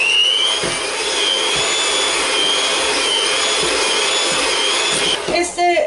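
An electric hand mixer beating butter, sugar and egg for oat and coconut cookies, whirring steadily at a high pitch and loud and close, then cutting off near the end.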